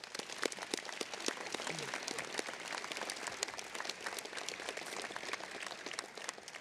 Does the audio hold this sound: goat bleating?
no